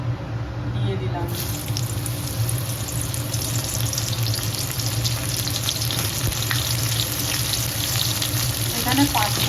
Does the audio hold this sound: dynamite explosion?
no